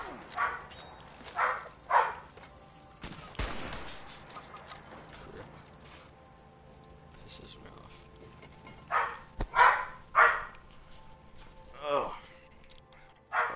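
A dog barks in short bursts, a pair of sharp barks, then a later cluster of several, separated by quiet stretches with faint room noise and a few clicks.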